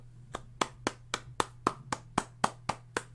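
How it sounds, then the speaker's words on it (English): A single pair of hands claps about a dozen times in an even, steady rhythm, each sharp crack close and distinct over a low background hum. "Clap your hands."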